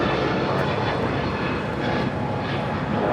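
Delta Airbus A321neo jet departing LAX for Orlando, a loud, steady broadband engine roar filling the whole moment, close and continuous with no voices.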